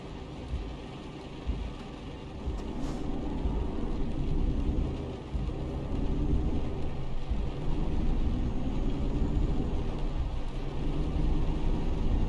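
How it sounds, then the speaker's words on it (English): Steady, dense rain roars against a truck cab in Euro Truck Simulator 2 with the Naturalux weather mod. A low engine rumble runs underneath throughout, with no distinct thunderclap standing out. "the rain does get more substantial and then you'll get the thunder and lightning as well"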